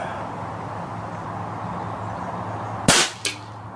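A custom Retay T20 air rifle fires a single sharp shot outdoors over steady background hum, followed a moment later by a fainter crack of pellet impact downrange.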